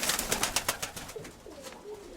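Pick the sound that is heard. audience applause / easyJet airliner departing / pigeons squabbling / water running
pigeons squabbling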